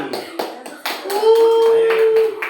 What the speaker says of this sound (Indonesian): Ayo tepuk tangan dulu untuk teman kalian yang maju ke depan.